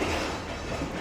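Passenger train at Rohri Junction platform, a brief steady rumble of rail cars in the background, with no voices.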